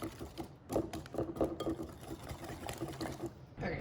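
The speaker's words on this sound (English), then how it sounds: "I'm gonna whisk this together until combined." Spices, including paprika, are whisked together in a bowl, giving a quick run of light, rhythmic clicking and ticking strokes at moderate distance.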